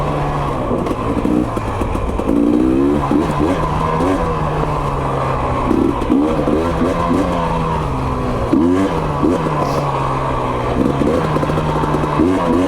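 A GasGas EC 300 two-stroke dirt bike ridden on a loose mountain trail, its engine revving up and down continuously and fairly close, with repeated throttle bursts as it climbs.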